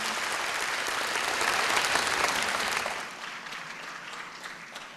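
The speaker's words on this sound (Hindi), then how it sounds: "उनके लिए भी भरपूर तालियां अगर आप करेंगे तो बहुत मेहरबानी।" Audience applause at an Independence Day speech, a dense, even roar of many hands clapping in a large hall, loud for three seconds and then easing to a softer, thinning patter.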